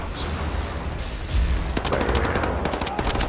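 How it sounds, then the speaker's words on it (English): Heavy machine gun fire in Wolfenstein: The New Order, a rapid string of loud shots starting partway through after a quieter stretch of game ambience, continuing steadily to the end. "Looks like we got the heavier machine gun here."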